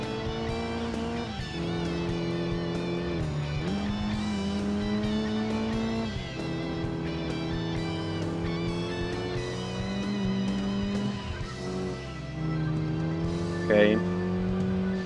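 A race car engine in Gran Turismo 2 drones steadily through a tunnel, its loud, sustained tone rising and falling with revs and gear changes, and a brief squeal near the end.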